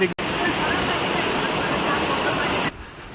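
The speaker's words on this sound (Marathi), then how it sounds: "उमरांडे वॉटरफॉल वहाँ पे" Umbarde waterfall near Nashik roars as a loud, dense, unbroken rush of falling water heard up close. A brief dropout comes near the start and the sound thins at the end, with a voice faintly present.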